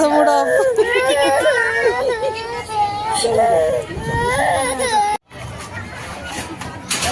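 A young child cries and wails loudly at an amusement park, sobbing in long rising bursts over a busy crowd of other children and chatter, then breaks off briefly before the background babble continues.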